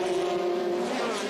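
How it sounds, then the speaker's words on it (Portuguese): A Formula Renault race car screams past on the Salvador street circuit in 2005, a loud, sustained high engine note with a steady tone across the whole moment. "Daí a passagem do carro de número 16 do Freitas"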